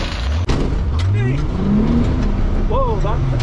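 A game car engine revs up, its pitch sweeping higher as it accelerates, loud and close, with people talking over it.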